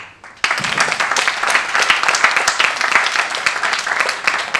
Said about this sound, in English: really a big round of applause to you